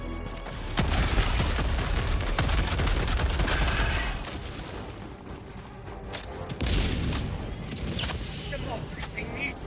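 Rapid bursts of Breaker shotgun fire from Helldivers 2 combat, loud and dense with repeated booming shots and explosions through most of the stretch, a brief lull, then more blasts.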